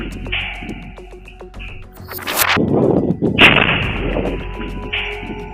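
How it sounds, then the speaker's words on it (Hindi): A Hamas fighter fires a rocket at Israeli soldiers in Rafah, Gaza: a sharp, loud blast bursts out, followed by a rumbling roar and crackling debris, with scattered cracks of gunfire before and after. "हमास का लड़ाका एक और रॉकेट फायर कर देता है, जिसमें जोरदार धमाका होता है"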